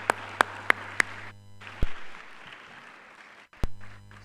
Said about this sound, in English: Guess we're tired of clapping.